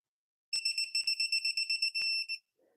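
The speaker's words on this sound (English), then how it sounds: "It'll go beep, beep, beep, beep, beep. That means you're getting close." A torque tool sounds a quick series of about a dozen sharp, evenly spaced electronic beeps as it nears its target setting during Toyota 1MZ-FE intake and injector installation, ending in a longer solid tone; loud and close, with no talk.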